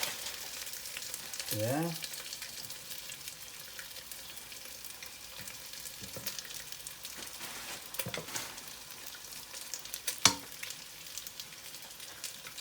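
Carrots fry in a pan alongside caramelised pork chops with a continuous quiet sizzle, punctuated by a few clanks and scrapes of utensils and a brief spoken word.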